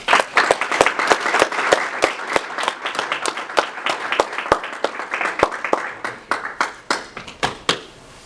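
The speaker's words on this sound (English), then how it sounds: "Please give a nice round of applause for our Advocate of the Year, Andrew Hegarty." An audience applauds at an awards event honouring the Advocate of the Year, a loud, dense burst of clapping that starts at once and then thins into a few scattered, separate claps at the end.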